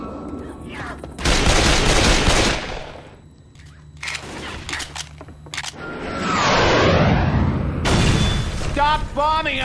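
Heavy gunfire in Left 4 Dead 2, loud bursts of automatic fire and booms that come in waves, with shouting voices mixed in among the shots.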